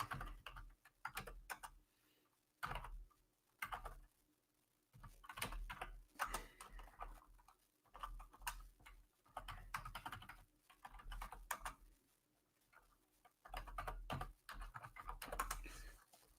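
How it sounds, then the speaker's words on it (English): Quiet, steady clicking from typing on a computer keyboard, in irregular bursts of keystrokes with short pauses between them, close to the microphone and with no talking. "I'm just literally typing this out."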